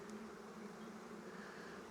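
Honey bees buzz on a hive frame lifted during a beekeeping check after a Demaree swarm-control split, a faint, continuous hum with no talking.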